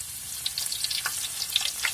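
Onions and lime leaves sizzle and crackle in hot oil in a pan, a steady close frying hiss dotted with sharp pops and spits, with no talking.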